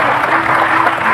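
Applause from a television studio audience, a brief, loud, dense burst of clapping from a crowd.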